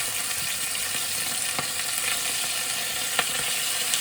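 Sausages and pork chops fry in a pan with a dense, continuous close sizzle, broken by a couple of faint scraping stirs.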